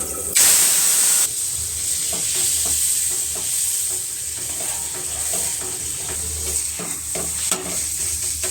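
Ground spinach paste fries in hot oil with nigella seeds, a loud bright sizzle and spatter opening the sequence, then settling into steady hissing frying with repeated scraping stirring strokes.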